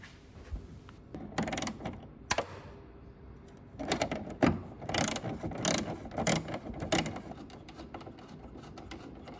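A ratchet with a 10mm socket undoing the 6mm stud nut on an inner taillight of a 2001 BMW 320Ci E46 coupe: close, quiet clicking in uneven bursts, with no talk.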